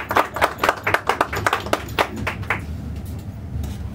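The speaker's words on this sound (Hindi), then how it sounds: "तालियां बजाओ।" Rhythmic hand clapping from an audience at a Hindi poetry performance in a studio, steady beats for about two and a half seconds, then fading into a quieter room hum.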